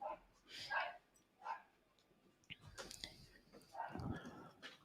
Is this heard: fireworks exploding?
no